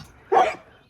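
A pet dog gives one short, close 'woo' vocalization, a quick howl-like yip lasting under half a second amid quiet surroundings.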